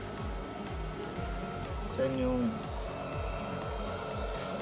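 The cooling blower on a Bosca solar power inverter hums and whirs steadily, with a brief higher tone partway through, while a person speaks briefly over it.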